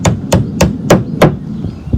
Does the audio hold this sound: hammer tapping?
yes